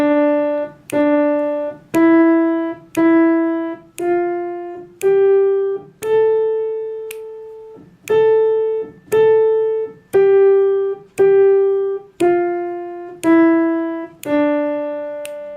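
Single piano notes played one per beat at a slow, even tempo, with finger snaps keeping time alongside them.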